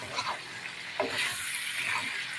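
Potatoes frying in a pan being stirred, a steady close sizzle with scraping strokes of a spoon through the hot oil, rising to a brighter hiss partway through.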